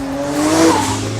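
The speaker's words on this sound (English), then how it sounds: "Every time I power out of a corner, it feels like I'm being launched from an aircraft carrier." A 1400 hp AMS Alpha 12 Nissan GT-R powers out of a corner with a loud, close engine note that climbs in pitch, along with a brief squeal of tyres.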